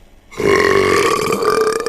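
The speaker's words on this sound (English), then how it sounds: "That's one big burp" Long, loud cartoon burp erupting after a brief quiet start and holding steady and resonant for well over a second, close and alone with no talking.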